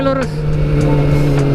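A Kawasaki ZX-25R motorcycle engine braking on a ride in Bali, with a loud, close, steady high-pitched engine whine that drops in pitch at the start and then holds.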